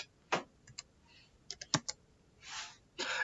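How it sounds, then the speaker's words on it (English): VBA code being typed on a computer keyboard: scattered single keystrokes and short clattering bursts of keys, close and clear, with no talking. "we're going to start typing code"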